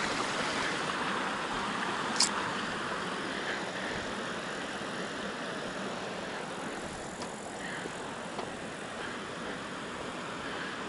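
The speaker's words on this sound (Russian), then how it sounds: "Водопад Шерлак." The Sherlak waterfall pours continuously somewhere off to one side, a broad, even rushing wash that holds steady throughout with a couple of brief clicks on top.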